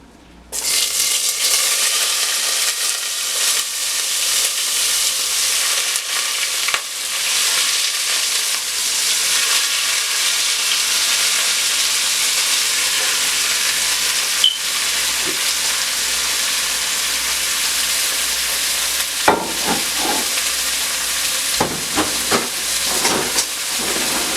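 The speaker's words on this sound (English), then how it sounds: "I'm about to add all the vegetables in here for the saltfish" Vegetables frying in hot oil for saltfish, a loud, continuous close sizzle that holds for the whole stretch, with occasional stirring clatters and pops toward the end.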